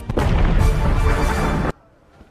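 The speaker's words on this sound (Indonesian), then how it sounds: "Meriam segera berdentum satu kali dari benteng Kara sebagai tanda Siberia sepakat damai." A single cannon fires from a fortress as one loud, close, rumbling blast that holds for over a second and then cuts off sharply into near silence.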